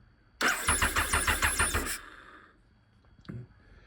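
A Triumph Sprint 955i RS motorcycle, a project bike with jumped plugs, cranks loudly with a rapid rhythmic starter churn for about a second and a half, then falls quiet, followed by a short mechanical clunk.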